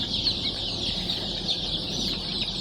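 Chicks cheep constantly in an incubator box with a heat lamp, a dense, high, overlapping chorus with no pauses and a low background hum.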